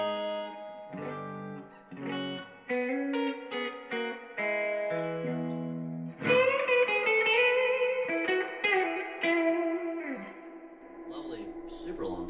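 Electric guitar played through an amp with the reverb turned up high, picking a slow melodic line of single notes and chords that ring on with a long, washy decay, loud and close, with no talking.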